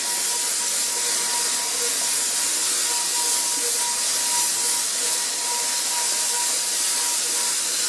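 A paint sprayer applying projector screen paint gives off a loud, continuous airy hiss with a faint steady whine, unbroken for several seconds with no talk.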